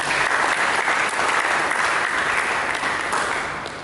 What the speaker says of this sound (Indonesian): Berikan tepuk tangan bagi Yesus.